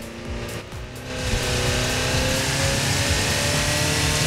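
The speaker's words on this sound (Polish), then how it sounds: "dziwnie brzmi teraz samochód, nie?" A Toyota's engine in Forza Horizon 4 drones loudly and continuously, building after about a second into a steady sustained roar with tire noise, with no talk over it.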